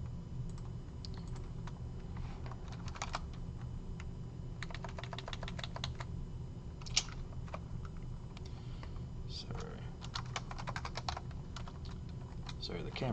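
Numbers tapped on a computer keyboard in short quick bursts of light key clicks over a steady low room hum.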